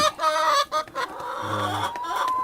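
Chickens cluck inside a coop with dry, fresh bedding, making a steady stream of nearby clucks and short calls with no talk.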